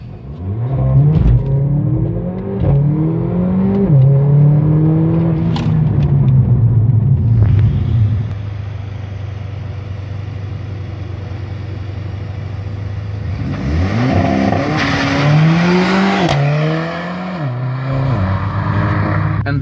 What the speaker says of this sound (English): now you need to put your foot flat down on the accelerator and release the left brake